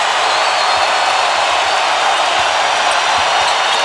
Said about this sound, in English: The crowd re-energized in Miami.